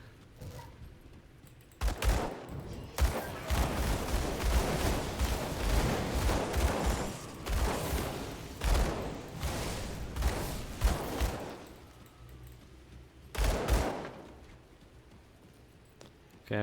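Dual pistols fire in rapid, near-continuous volleys in the Grim Dawn action role-playing game, loud and close with punchy impacts, pausing briefly before a final burst.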